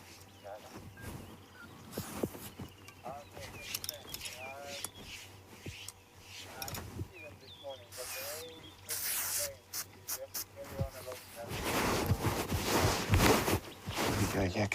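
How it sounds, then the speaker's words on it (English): Aerosol sun cream sprayed in a few short hissing bursts from inside a safari game-drive vehicle, with people talking and outdoor bush ambience throughout. "So you hear that spray, that's just me popping some sun cream on."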